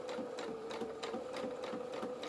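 A sewing machine runs steadily, stitching gathering lines on a small doll shirt, with a close, even motor whine and a quick regular rhythm of needle strokes throughout.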